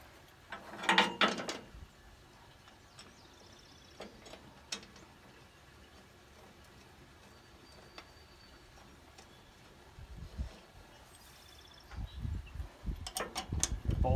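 A ratchet tightens bolts back into a sawmill during a Woodland Mills bushing upgrade, giving short bursts of quick mechanical clicking near the start and again toward the end, with quiet handling noise between.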